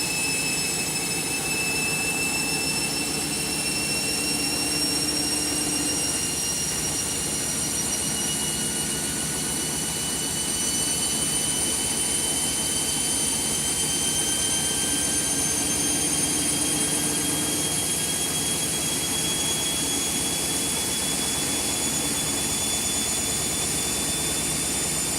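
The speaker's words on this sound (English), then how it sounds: "I put it on a 1200 spin today, as you can see." An overloaded Candy washing machine runs a 1200 spin cycle, giving a steady, loud motor whir with thin high whines that slowly climb in pitch, continuous for the whole stretch with no talk.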